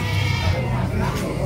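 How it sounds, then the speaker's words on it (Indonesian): A gembel goat bleats steadily at a busy livestock market in Cipari, Cilacap, close and fairly loud, with crowd voices mixed in. "Itu ada kambing gembel."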